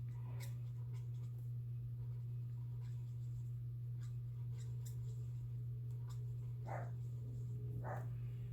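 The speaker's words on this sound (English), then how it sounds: "Oh, Bradley is outside just barking away at something." A dog barks a few times in the distance, short bursts spaced apart over a steady low hum.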